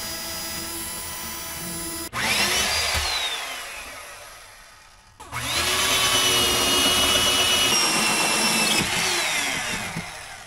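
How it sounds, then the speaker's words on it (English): A hole saw drills through cabinetry inside a Four Wheel Camper shell, its motor whining in two long sustained runs with a brief pause between, loud and close. "I drilled a pilot hole and then went to work with the hole saw"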